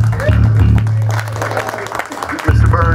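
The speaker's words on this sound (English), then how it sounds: "clap it up for Talent Farm" Concert crowd at The Talent Farm applauds at a live band show, clapping and cheering blended with loud, sustained low music and a voice talking over it.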